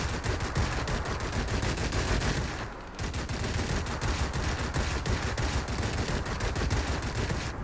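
An ME-209V4 aircraft's gun fires in World of Warplanes, rapid dense bursts over steady engine drone, with a brief pause near the middle before firing resumes.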